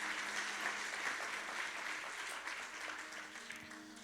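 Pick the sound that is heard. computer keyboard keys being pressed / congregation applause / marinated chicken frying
congregation applause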